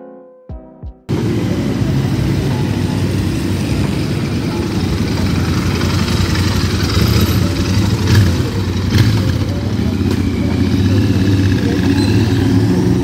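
A Royal Enfield Interceptor 650 motorcycle engine on a test ride gives a steady, loud, low rumble with slight swells in pitch, joined by broadband road and wind noise, after a brief clicking start.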